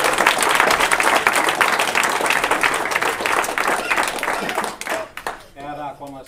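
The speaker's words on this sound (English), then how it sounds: "So please give yourselves all a round of applause for those." A crowd at a Des Moines Startup Weekend closing gives loud, sustained applause that tapers off after about five seconds, and a voice then starts talking.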